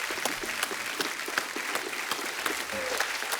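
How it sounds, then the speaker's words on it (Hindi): Studio audience on a Hindi comedy TV show applauding loudly and steadily, a dense continuous clatter of clapping with sharp individual claps standing out throughout. "एक बार जोरदार तालियां हो जाएं।"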